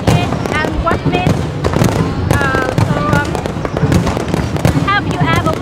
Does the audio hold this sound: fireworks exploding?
yes